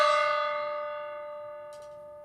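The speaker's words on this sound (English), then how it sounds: "Nice big old gong there." A big old gong struck once near the center of its face, ringing with a bright, shimmering attack that decays slowly into a long sustained hum, alone with no talk.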